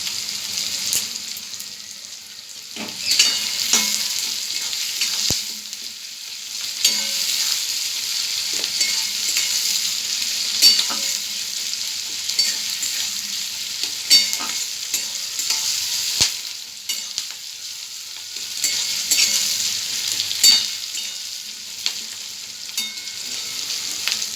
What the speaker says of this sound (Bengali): এবার দুটো শুকনো লঙ্কা দিয়ে দিলাম আর দুটো তেজপাতা দিয়ে দিলাম।